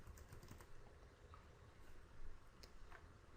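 Faint, quick clicking of computer keyboard keys, several rapid keystrokes in short bursts over a quiet room hiss.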